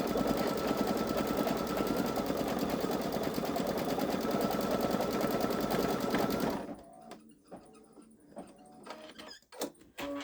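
A Baby Lock Solaris Vision embroidery machine stitching a dense Santa snowman design on fabric, fast continuous mechanical whirring and rapid needle chatter up close, then stopping abruptly, followed by scattered clicks and handling knocks.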